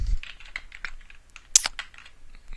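Keys tapped on a computer keyboard while entering a username and password, an uneven run of light clicks with one louder clack near the middle and another at the end, close and alone.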